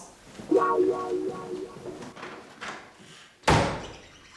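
A door slams shut hard as someone walks out, one loud sharp bang following a few seconds of a voice speaking indoors.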